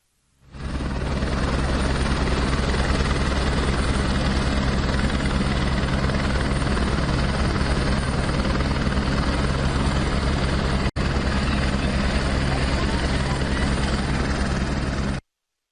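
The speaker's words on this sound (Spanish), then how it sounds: "se sumaron helicópteros del agrupamiento Cóndor de la Secretaría de Seguridad Ciudadana para trasladar a los heridos más graves" Rescue helicopters from the Cóndor group of Mexico City's Secretaría de Seguridad Ciudadana fly overhead, airlifting the injured after the Metro Line 12 collapse, a loud, unbroken rotor drone lasting about fifteen seconds.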